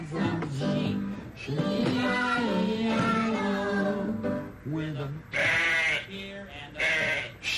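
A voice imitates a sheep bleating in a Sesame Street scene, with repeated wavering, vibrato-laden calls sounding loud and close, broken by short pauses and ending in a couple of sharper bursts.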